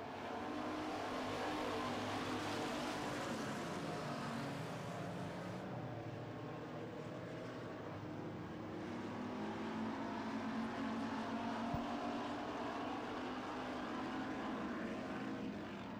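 Street stock race cars roar around an oval after a restart, a dense, continuous wash of engine noise from a pack running together at a steady moderate distance.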